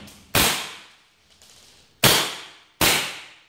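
An airsoft Desert Eagle pistol fires three sharp, loud, close shots, the last one ending its magazine, each crack followed by a short decaying ring, with a faint click between the first two.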